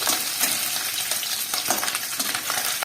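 Steady, dense crackling sizzle of tangra fish frying in hot oil in a wok, with sharper pops scattered throughout and no voices.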